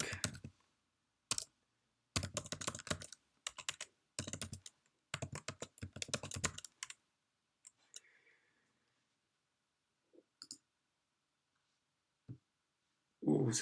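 Typing on a computer keyboard, close, crisp clustered keystrokes in several quick bursts, then sparse isolated clicks with long quiet gaps.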